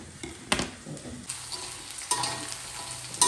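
Small pieces of tempe frying in hot oil in a pan on low heat, a steady sizzle broken by a few sharp clacks and scrapes as they are stirred, with no talk.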